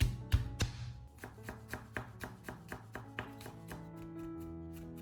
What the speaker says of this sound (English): take 2 cloves of garlic, peel them, and mince them to add a nice aroma to the pancake